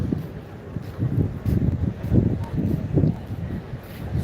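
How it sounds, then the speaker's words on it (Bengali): Wind at Patenga on the seashore, buffeting the microphone in low, irregular rumbling gusts that pulse every half second or so throughout, with no one talking. "বাতাসের শব্দ"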